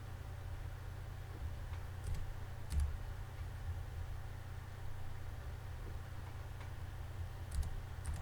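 Computer keyboard typing and mouse clicks sound as faint, sparse ticks and taps over a steady low hum, with no one talking.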